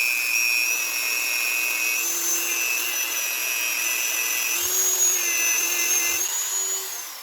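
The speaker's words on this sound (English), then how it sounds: "Now I'm going to go and clean that up. Again, using the Dremel tool." A Dremel rotary tool cleans up a piece of recycled copper jewelry, giving a steady high-pitched whine with slight pitch shifts as the load changes, close and continuous throughout with no talk.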